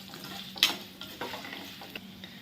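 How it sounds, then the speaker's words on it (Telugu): Tempering for gongura chutney, with lentils, curry leaves and two dry red chillies frying in oil. A faint sizzle runs underneath a few sharp spatula scrapes and clinks, close and fairly quiet, no speech. "ఇవి బాగా ఫ్రై అయిపోనిద్దాం"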